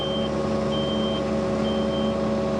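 Twin drum roller backing up with its reversing alarm beeping steadily in a slow, even pattern over a loud, constant diesel engine drone, close by.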